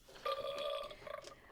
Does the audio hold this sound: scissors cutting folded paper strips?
no